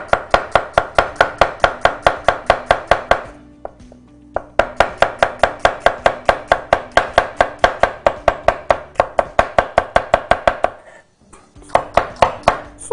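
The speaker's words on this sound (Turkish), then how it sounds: "Soğanları ince uzun jülyen şekilde doğruyoruz." Rapid, steady knife chopping of onions into julienne strips on a cutting board, close and loud, with a couple of brief pauses between bursts of quick even strokes.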